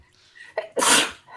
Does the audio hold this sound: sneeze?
yes